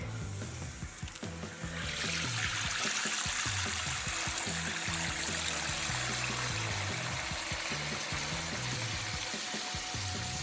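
Water rushes steadily into a toilet cistern once the supply is turned on, a constant close hiss and gurgle that starts after a brief quieter moment and keeps going without pause.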